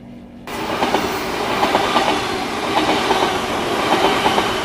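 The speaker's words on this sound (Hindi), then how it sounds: "मेट्रो के आने की आवाज़ तेज हो गई।" A Delhi Metro train pulls in, its rumble and rhythmic clickety-clack of wheels over rail joints growing loud and steady after a brief quiet start, with no voices.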